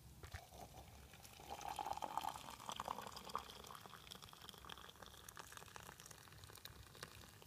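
Water is poured into a glass tea brewer with loose tea leaves, a soft, quiet trickle that swells briefly and then settles into a faint bubbling wash.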